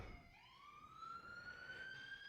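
A distant siren wails steadily in Bushwick, with a rising, sustained tone over faint background hum, fairly quiet and far off.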